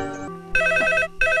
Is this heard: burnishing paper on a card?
no